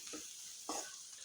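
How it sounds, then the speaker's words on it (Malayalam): Turmeric, black pepper and garam masala stirred together in a pan for a Kerala green peas curry: two short scraping strokes, quiet and close, with no talking. "ശകലം മഞ്ഞൾപ്പൊടി, ശകലം കുരുമുളക് പൊടി, കുറച്ച് ഗരം മസാല. നല്ലപോലെ ഇളക്കി യോജിപ്പിക്കുക."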